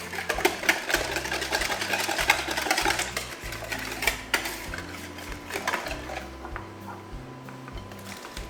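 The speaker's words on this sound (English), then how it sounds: "Whisk that all in there." A whisk beats paprika into a casserole mixture in a bowl, giving quick, rhythmic scraping and clinking close by, with no talk.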